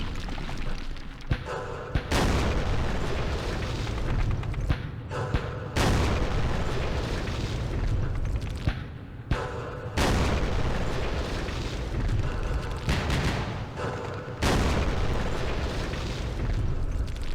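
Rocket barrages in the Vietnam war game Campaign Series Vietnam land as repeated heavy, rumbling explosions, each several seconds long, loud and continuous with brief gaps between blasts.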